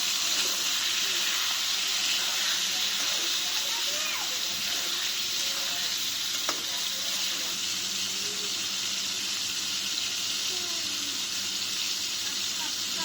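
Chopped tomatoes go into a hot pan of chicken curry with taro root, giving a steady, broad sizzle that hisses evenly throughout at close range, with faint voices underneath.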